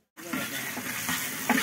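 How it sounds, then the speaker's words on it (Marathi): Chopped onion hits hot oil for a Malvani-style tempering and sizzles steadily from a sudden start, a short burst of frying close by with a faint voice in the background. "आता ही फोडणी कांदा"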